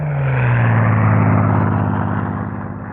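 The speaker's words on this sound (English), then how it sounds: "The unmistakable sound of the Spitfire." A Supermarine Spitfire fighter plane's engine roars loud and close, its deep propeller drone dipping slightly in pitch as it passes, then fading a little at the end.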